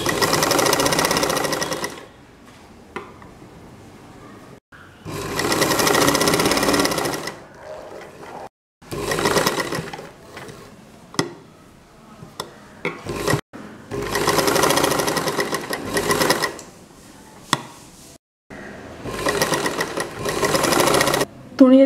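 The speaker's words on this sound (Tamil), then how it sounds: "இப்போ 2 துணியும் சேர்த்து தைக்க ஆரம்பிக்கலாம்." A sewing machine stitches two layers of cloth together for a face mask, running in several steady bursts of rapid mechanical whirring separated by short pauses.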